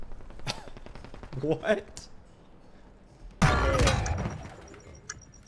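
Gunfire in the video game Warzone: a couple of sharp shots, then a loud burst of rapid fire with an echoing tail, under a single spoken word.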